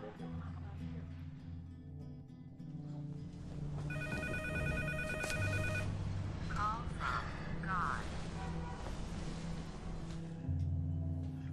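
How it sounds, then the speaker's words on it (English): A telephone rings indoors, its bell sounding in a few clear bursts in the middle over a low steady background hum. "pick up the phone, please"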